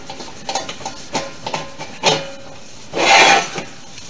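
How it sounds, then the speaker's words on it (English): Turtle Wax being rubbed onto stainless steel trim of a 1976 Ford LTD, a series of short close scrubbing strokes in uneven rhythm, ending in a longer, louder rasping wipe. "we're gonna take a little of this turtle wax and smear on here a little"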